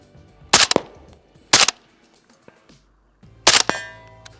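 A small, compact rifle fitted with an EoTech Vudu 3-9 scope fires three loud, sharp shots spaced about a second or two apart outdoors, each cracking off with a brief ringing tail and a faint metallic ping after the last.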